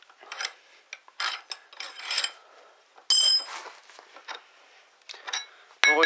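Nut and washer unscrewed and lifted off an internal rotor ignition on an engine, heard as a string of light metallic rasps, scrapes and clinks with pauses between, close up, ending on a bright ringing clink.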